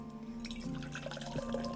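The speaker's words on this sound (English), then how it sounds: "After I pour myself some caffeine." A caffeinated drink is poured into a cup indoors, a soft liquid trickle and splash over a steady background hum, with no talking.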